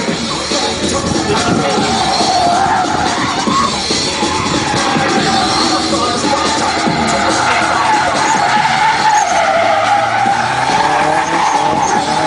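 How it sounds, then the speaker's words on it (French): A drift car slides sideways on a frozen, partly wet track at a drift show, giving a loud continuous tire squeal and engine roar with faint crowd noise underneath. "Tout en travers. Il se contrôle à l'accélérateur et à l'embrayage."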